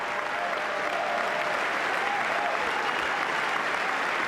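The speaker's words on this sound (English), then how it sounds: "People applauding this guy." Members of Congress applaud Netanyahu, a steady, dense wash of clapping from a large chamber audience that holds level and sustained throughout.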